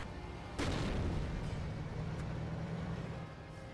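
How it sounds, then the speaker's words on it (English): A 25-pounder artillery gun fires in a video game: one sudden, loud broadband boom that trails into a long, steady rumbling roar, with no voices. "Mistalin is bringing on a 25-pounder already, so that's a fair amount of pop being devoted to artillery right now"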